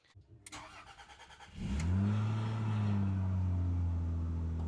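A Rover 75's engine, just back together after work on the variable intake system, cranks with a rhythmic starter whirr for about a second, then fires and settles into a steady, even idle heard up close.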